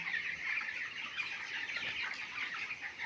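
A crowd of chickens at a poultry farm keeps up a dense, continuous chorus of clucking and chirping throughout, fairly close and with no talk.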